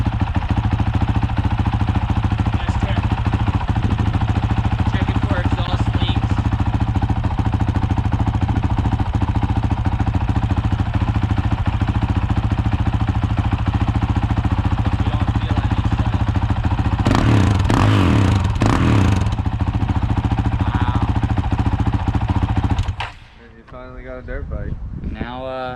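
A Honda CRF450RL dirt bike with a Yoshimura RS4 exhaust idles loudly and steadily at close range, a continuous rough engine drone with a brief louder burst before it cuts off near the end.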